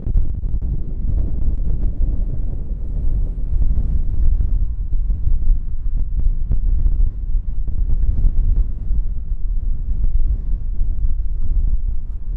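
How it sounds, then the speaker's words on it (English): Strong wind blasts across the microphone outdoors near Thirlmere in the Lake District, a loud, constant low roar with no voices. "It's ridiculously windy."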